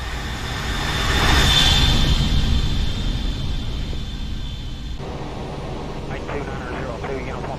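Flyby of a ToLiss A319 airliner in the X-Plane flight simulator during winter storm operations, with a steady broadband jet roar that swells and fades as it passes, a loud continuous wash alone without talk.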